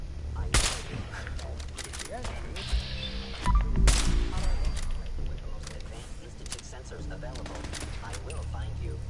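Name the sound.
turret gunfire in video game Fallout 4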